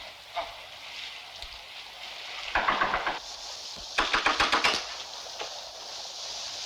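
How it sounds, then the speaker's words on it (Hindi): Rain falling as a steady hiss throughout, with a few clusters of sharper tapping and knocking sounds nearby, and no voices. "बारिश हो रही है, यहीं रुक जाते हैं।"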